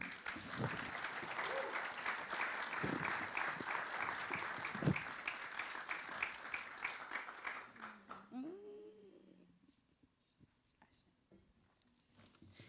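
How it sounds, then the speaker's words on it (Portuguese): An audience applauds to welcome a singer onto a stage, dense clapping for about eight seconds that fades out, followed by a brief voice and near silence. "Palmas para ela, por favor."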